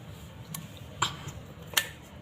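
Washing machine outlet pipe being snapped into its fitting at a tap: a few quiet, sharp plastic clicks close by, spaced irregularly over a faint background.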